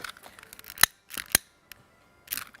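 Scissors snip through material during handmade handbag making: three separate close, crisp cuts spaced across a couple of seconds, with quiet handling in between and no talking.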